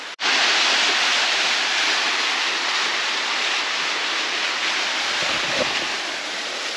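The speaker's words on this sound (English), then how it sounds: "And you see that waterfall over there." Steady broadband rushing of falling water, loud and continuous like a nearby cascade, with no voices.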